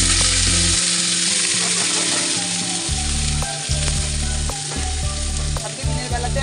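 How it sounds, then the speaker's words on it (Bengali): Frying in mustard oil with green chillies, a loud, dense sizzle throughout with occasional stirring clatter and crackles, no voices. "এখানে আমি সর্ষের তেল দিয়ে ভাজবো"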